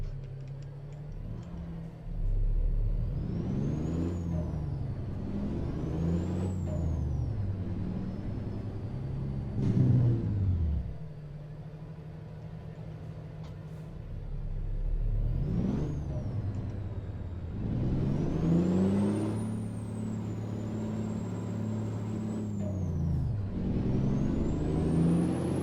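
Kenworth K200 truck in American Truck Simulator, a heavy diesel engine rising and falling through gears with loud rumbling revs, punctuated by hissing air-brake bursts and a high whine, no talking.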